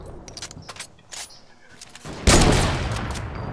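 Gunfire in Fortnite: Battle Royale, a run of sharp cracking shots and then a loud sustained burst that slowly fades, with players talking over it.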